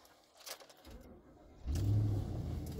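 A 2017 Ford F-250 Lariat pickup engine cranks and fires, a brief starter whir followed by a loud, steady idle rumble that swells and holds close by.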